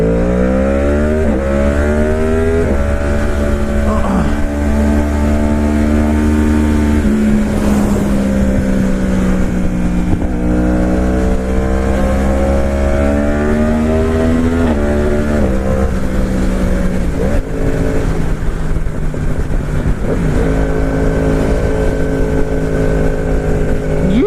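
A Corvette ZR1 with 68,000 miles accelerates hard up a ramp while passing cars. Its engine note rises steadily in stepped gear pulls and stays loud and close for the whole run, with no talking.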